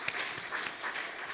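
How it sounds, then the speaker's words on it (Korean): A church congregation claps during a worship service in a brief, faint burst of applause. The hand claps are quick and overlapping, with a few sharper claps standing out from the blur. "감사의 박수를 돌립니다"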